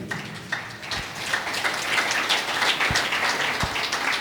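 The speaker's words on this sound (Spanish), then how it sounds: "Fuerte aplausos, Iglesia de Cristo," Church congregation clapping loudly during a Quechua-language service, a dense, steady wash of applause filling the whole stretch with no pauses.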